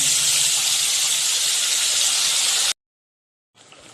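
Spice paste dropped into hot oil tempered with black cumin for a Bengali pomfret fish curry, a loud, steady close-up sizzle and hiss that cuts off abruptly, then returns more faintly after a short silence.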